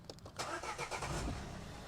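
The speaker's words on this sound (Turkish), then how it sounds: "Şöyle bir arabayı çalıştırayım." A Renault Megane engine cranks and catches, then settles into a steady, close running rumble for the rest of the short stretch, with no talking.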